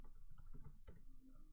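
Keys clicking in short, light taps on a computer keyboard while a CCNA VLAN configuration command is entered, faint and close, with a sharper click near the end.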